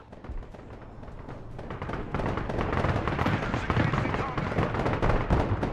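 Rocket and artillery fire in the Broken Arrow video game, a rapid dense barrage of booms and crackling blasts building louder over several seconds, with a voice talking underneath.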